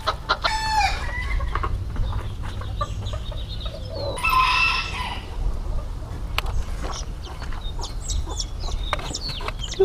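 Chickens cluck and squawk close by amid farmyard noise, with a brief loud burst of crowing partway through.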